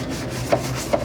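Rags scrubbing the interior of a Jeep Rubicon during restoration, a steady close rubbing hiss with two short brisk strokes standing out, no talk.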